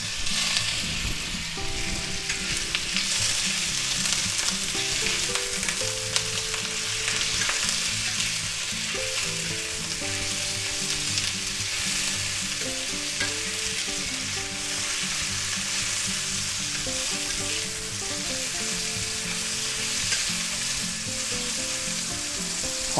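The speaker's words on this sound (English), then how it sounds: "Make sure you put enough because we're frying up our sausage." Sausage fries in oil in a pan, a loud, steady close-up sizzle and crackle that continues throughout, with faint stirring sounds and no talking.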